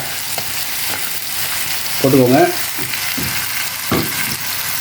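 Mutton liver sizzles loudly in a pan of ginger-garlic masala while being stirred, a steady crackle with spoon scrapes; a voice speaks briefly over it.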